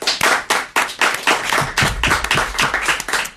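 A television studio audience claps in loud, rhythmic bursts, close and punchy, with a few taps and little voice.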